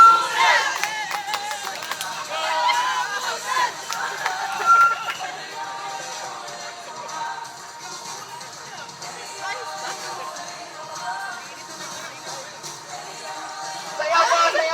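Crowd at a 2024 opening salvo event shouting and cheering together in a loud burst, then settling into steady babble with scattered voices, rising again at the end.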